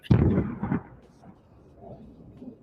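A drone strike on an armoured personnel carrier produces a single heavy blast, a sharp loud boom that quickly decays into a low, distant rumbling tail.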